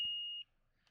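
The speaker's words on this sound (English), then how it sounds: "Currently on continuity, so it'll beep when I have continuous circuit." Multimeter set to continuity gives one sharp steady electronic beep lasting under half a second while probing a DSi XL motherboard, close and clear, then near silence.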